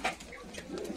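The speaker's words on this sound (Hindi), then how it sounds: "ये घर का कबूतर है और बहुत ही खूबसूरत कबूतर है" A pair of domestic Madrasi pigeons coos softly close by, brief low throaty murmurs within one second against faint background noise.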